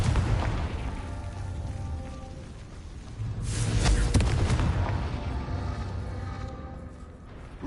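A Confringo blasting spell explodes in Hogwarts Legacy, a loud boom with crackling debris rising mid-clip over a rumbling game background.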